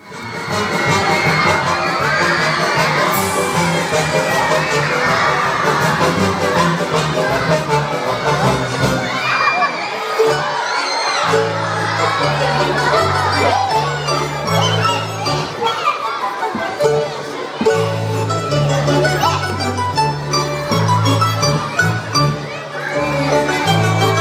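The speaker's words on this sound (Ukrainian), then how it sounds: "глядачі оплесками підтримали учасників Рівненського обласного академічного музично-драматичного театру" Audience applause and cheering from children at the end of a musical fairy-tale play for kids by a regional music-drama theatre company, loud and sustained throughout, with crowd shouting and music underneath.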